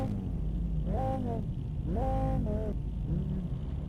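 A race car lapping the Nordschleife in the racing game Automobilista 2, its engine droning low and rising in pitch through gear changes, steady and moderately loud with no talking.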